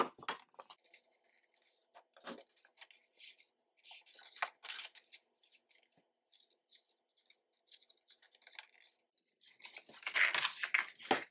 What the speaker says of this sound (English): Let me use scissors.